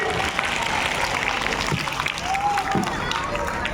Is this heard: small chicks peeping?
no